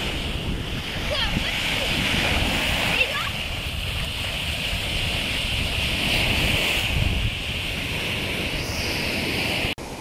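Strong sea waves crash and wash on the Berdyansk shore in a continuous loud roar of surf and spray, with wind and a voice talking faintly beneath.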